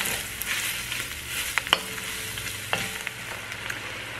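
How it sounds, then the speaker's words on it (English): Onions and peppers sizzle and fry in a pot for a pumpkin chili, with a steady hiss broken by a few sharp scrapes and clinks of stirring, close and alone with no voices. "Stir and cook for about 5 to 7 minutes, up until the onions and peppers are tender."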